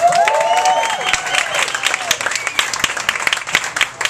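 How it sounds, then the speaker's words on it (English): A crowd applauds loudly and steadily, with scattered cheers and whoops rising over the clapping. "One more round of applause for Chet Siegel."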